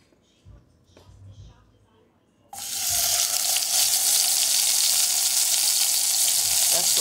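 Oil in a cooking pot for a Kittitian mix-up pot bursts into a loud, steady sizzle and bubbling partway through, after a quieter stretch with faint background sounds.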